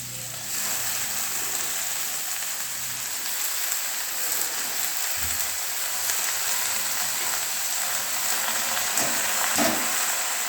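Fresh spinach (palak shaak) frying in a pan for a home-cooked palak dish, a steady close hiss and sizzle that continues throughout with small crackles and no talking.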